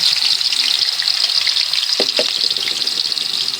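Garlic dropped into preheated cooking oil for sautéed bitter gourd, giving a steady broad hiss of frying with a few brief clatters partway through, close and fairly loud with no talking.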